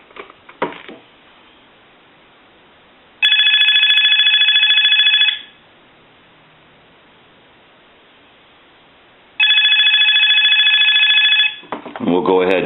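An AT&T 5515 cordless telephone handset rings in two long electronic trill bursts separated by a quiet gap, loud and close, with a voice briefly at the start and again at the end.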